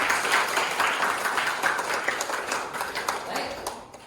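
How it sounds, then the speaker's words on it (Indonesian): Classroom applause, a dense burst of many hands clapping at once, steady and fairly loud before tapering off near the end, with voices mixed in. "Tepuk tangan untuk kita semua"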